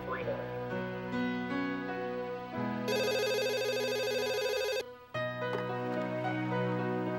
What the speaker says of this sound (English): And that evening, the phone rang.